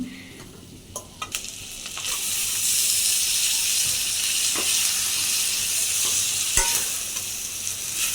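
Noodles frying in a pan, a loud steady sizzle and hiss with occasional scrapes and knocks of stirring, close and continuous with no voices.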